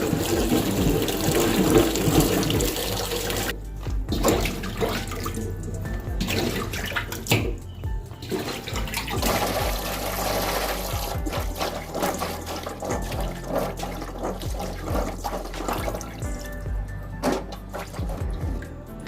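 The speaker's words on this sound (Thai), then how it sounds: "ล้างจนสะอาดแล้วค่ะก็ นำขึ้นตะกร้านะคะ" Fingerroot (krachai) rhizomes washed in a basket under running water, with a steady, fairly loud rush and splash continuing throughout, small clatters and sloshes as the roots are scooped and turned, and no talking.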